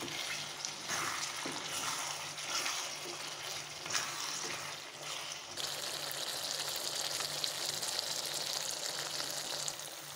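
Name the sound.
country chicken pepper fry cooking and stirred in pan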